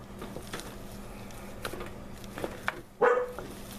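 A dog barks nearby, a few short sharp barks with one louder bark near the end, over quiet background noise.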